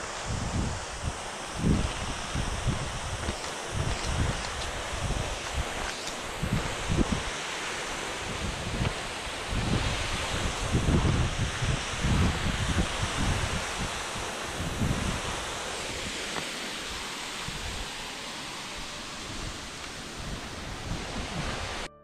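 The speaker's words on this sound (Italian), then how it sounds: "C'è vento qua sotto." Steady wind gusts roar below a waterfall, broad rushing noise buffeting the microphone continuously with no voices.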